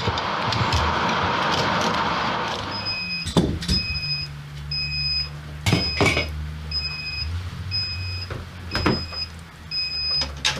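A home brewing system controller signals that the mash is ready with a steady series of short, evenly spaced electronic beeps. They follow a stretch of loud hissing, with a few thuds and clunks mixed in.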